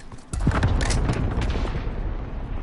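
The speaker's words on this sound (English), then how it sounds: "Oh, we're shooting far now." Video-game sniper rifle fire: a sharp crack after a short quiet, then a dense burst of overlapping booming shots and rattling echoes that stays loud to the end.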